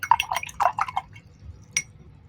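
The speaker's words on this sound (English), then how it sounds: "then I'm going to wash this brush" A paintbrush being rinsed in a water container while painting a festive nutcracker, giving a quick run of small splashes, drips and glassy clinks against the jar, fairly close, then a brief tap near the end with no talking.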